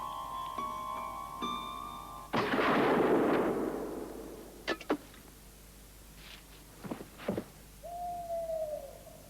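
A sharp gunshot blast cracks out and echoes away, followed by a few scattered distant shots, then a faint tonal call fades in.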